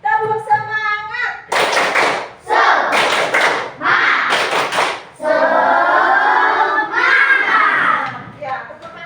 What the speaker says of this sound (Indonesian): Bu Guru akan ajak anak untuk melakukan tepuk semangat